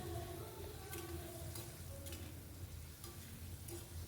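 Ridge gourd frying in a pan with turmeric and chili powder gives a quiet, steady sizzle, broken by soft stirring scrapes every half second or so, with no voices.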